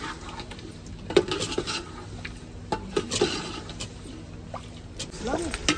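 Potatoes are stirred in a cooking pot with a metal spoon, giving repeated scrapes and clinks against the pot over a low hum. The scraping comes in irregular bursts, close and moderately loud, with a few sharper knocks.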